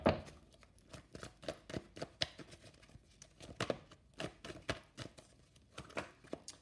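Tarot cards being shuffled by hand, a faint string of quick, irregular papery riffles and taps close by, with no talk.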